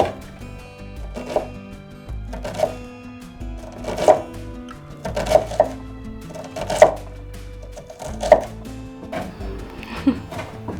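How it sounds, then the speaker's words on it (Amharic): A knife chops onions on a board in a domestic setting, a series of about eight separate thuds at an uneven, unhurried pace, with quiet talk between the cuts. "ሽንኩርት መክተፍ እኮ ነው የጠየኩሽ።"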